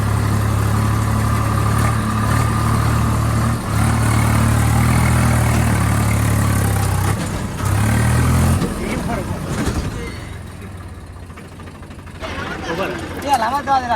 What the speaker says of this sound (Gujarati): એને તો બંધ થઈ જાય રે ટ્રેક્ટર